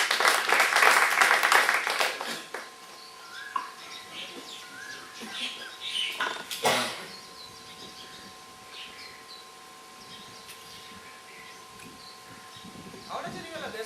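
An audience at a seminar claps in a brief loud burst at the start, then quiets while a speaker talks and faint chirps and rustles continue.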